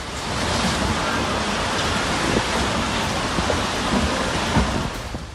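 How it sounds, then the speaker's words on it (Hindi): Storm over Bhopal's big lake, with heavy rain, rumbling thunder and waves crashing on the water, a loud, dense, continuous roar with gusting surges. "यहाँ जब मौसम बिगड़ा तो तालाब समंदर की तरह उछाल मारने लगा"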